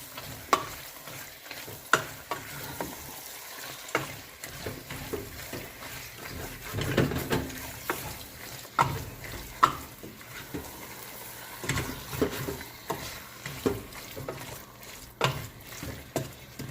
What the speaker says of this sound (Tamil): இப்போ ஒரு 5 மினிட்ஸ்க்கு இந்த மட்டனை நாம் அந்த மசாலாவில் நல்லா ரோஸ்ட் பண்ணிடலாம்.